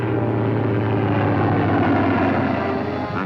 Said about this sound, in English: planes of the Fleet Air Arm and Coastal Command patrol the skies and search the seas